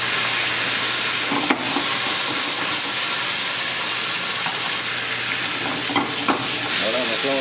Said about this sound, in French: Là on déglace avec un petit peu de vin blanc.